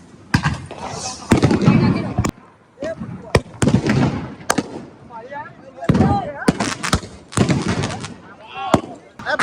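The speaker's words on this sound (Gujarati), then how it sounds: "ફટાકડા ફોડે પણ જોતો ખરી" Sharp Diwali fireworks and firecracker bangs, including ground spinners, burst repeatedly in irregular bursts, some loud and close, with people talking and shouting between the blasts.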